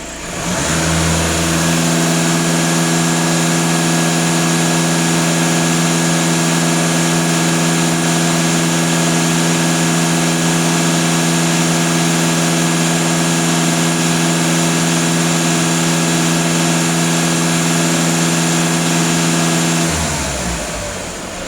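A VW Touran 2.0 TDI diesel engine held at about 2500 rpm during an emissions system cleaning, rising from idle to a loud, steady drone that holds for nearly twenty seconds before dropping back, with no voices.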